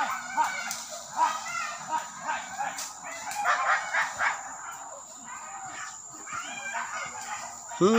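Hunting dogs bark and yelp in the distance while chasing wild boar near Lembang, Singkarak in Solok, a scattered chorus of faint, repeated calls with occasional voices.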